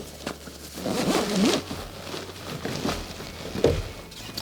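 The main compartment's U-shaped zipper on an Osprey Meridian 28 wheeled luggage is drawn open in a few rasping pulls, close to the mic, with light handling rustle around it.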